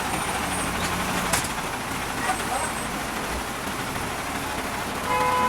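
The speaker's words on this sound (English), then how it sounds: "Traveling by bus around India is always fun, especially in Himachal Pradesh." Bus travelling along a road in Himachal Pradesh, India, with a steady engine rumble and road noise from inside, a brief horn or air-brake burst partway through, and faint voices underneath.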